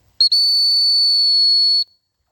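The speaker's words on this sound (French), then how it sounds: "Allez, on va essayer les rappels au sifflet." One long, piercing high-pitched blast of a dog-training recall whistle, briefly broken at the start then held steady for about one and a half seconds, close and alone.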